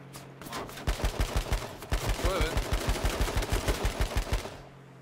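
Rapid bursts of gunfire in the battle-royale game H1Z1, a dense run of sharp shots repeating at a quick, steady rhythm across the whole stretch, loud and close.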